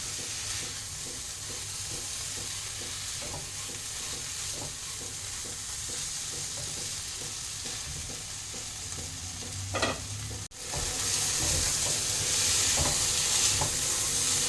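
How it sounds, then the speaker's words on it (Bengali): Poppy seed paste cooks in a pan while being stirred, giving a steady sizzle with repeated scraping strokes; the sizzle briefly cuts out and then returns louder and hissier, as if water from rinsing the paste bowl is splashed in. "অল্প অল্প পোস্তর বাটি ধোয়া জলটা দেব আর একটু নাড়াচাড়া দিয়ে নেবো"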